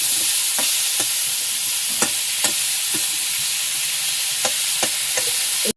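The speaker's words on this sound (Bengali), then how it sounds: "লাউটা কষাবো, কষায় হালকা জল দেবো" Bottle gourd sizzles steadily in a hot pan while a spatula scrapes and stirs it in irregular strokes, the frying hiss constant and close with no talking.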